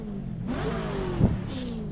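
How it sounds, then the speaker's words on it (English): A race car engine in the iRacing sim revs with a steadily climbing pitch, loud and close, with a short sharp bump partway through and no talking. "the engine sounds are awesome. They're phenomenal."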